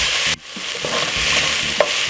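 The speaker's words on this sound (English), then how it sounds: "stir this for about 5 to 6 minutes, just like this" Potato soup ingredients stirred and fried in a pot over medium heat, a loud continuous sizzle with a spoon scraping through it and one sharp knock near the end.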